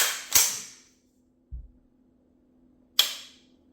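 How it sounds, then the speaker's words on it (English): A Primary Weapon Systems Mk218 rifle gives a sharp, crisp trigger click, then a quieter low thump, then a second crisp click as the trigger resets, each short and close with silence between. "Very, very clicky trigger."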